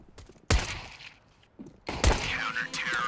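Pistol one-tap shots in CS:GO: two sharp, loud gunshot cracks about one and a half seconds apart, each followed by ringing game noise and a brief clatter.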